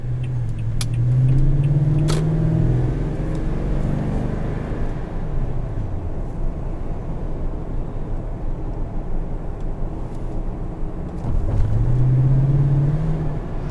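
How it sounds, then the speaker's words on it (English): A lifted 2018 Toyota Tundra 1794 Edition with the 5.7 V8 accelerates from inside the cab, its intake drawing in air with a rising engine swell twice, first near the start and again toward the end, with steady road rumble between. "when you give it a little bit of gas, you hear it suck in"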